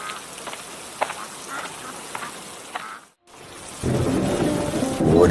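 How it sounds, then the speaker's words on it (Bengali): Heavy rain in a cartoon begins as a steady hiss with faint rumbling, drops out briefly, then returns as a louder, fuller downpour with low thunder rolling beneath it. "কি জোরে বৃষ্টি নামছে!"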